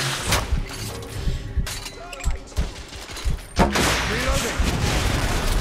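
Gunfire from The Order: 1886 video game, with repeated sharp shots and bursts, some thudding impacts, and voices talking over and between the volleys.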